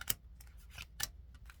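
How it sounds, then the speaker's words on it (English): Cards are laid down on a table one after another, several quiet, crisp slaps and snaps spaced unevenly over a moment, close by and alone with no talking. "I'm going to lay 3 cards down."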